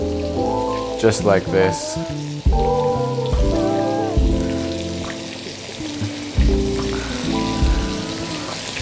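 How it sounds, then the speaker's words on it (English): Fresh sage leaves sizzle in foaming butter, a steady crackling hiss that runs beneath a person speaking nearby. "you literally just drop the leaves into that foaming butter"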